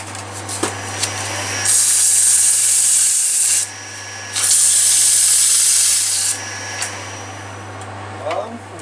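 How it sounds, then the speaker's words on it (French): Sanding wood on a lathe, a steady dry rubbing hiss in two long loud bursts with a spinning machine hum beneath and quieter handling between, close and clear without talk. "un petit coup de ponçage"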